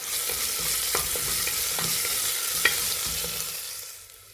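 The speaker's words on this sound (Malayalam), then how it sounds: "സവാള വാടി വരുമ്പോൾ അതിലേക്ക് ഒരു തണ്ട് കറിവേപ്പില ചേർത്തിട്ട് ഒന്നും കൂടി ഒന്ന് വഴറ്റിയെടുക്കുക" Sliced onion and a sprig of curry leaves sauté in a pan for a bottle gourd and lentil curry, giving a steady close sizzle broken by scattered soft scrapes and taps of a stirring spoon, fading near the end, with no voices.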